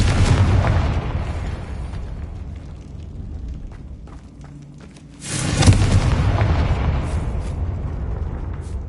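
A Confringo blasting spell from Hogwarts Legacy goes off as a single loud, booming burst partway through, standing out from a steady rumble of game ambience before and after.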